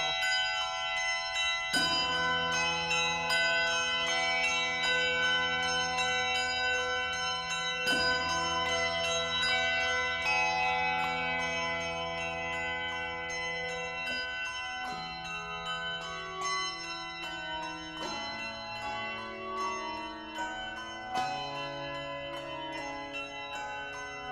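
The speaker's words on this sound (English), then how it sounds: "we start off with the tower bells, with the church bells ringing" Several church tower bells ring together in a rich, sustained peal, tones overlapping and changing pitch over a long stretch, with no voices.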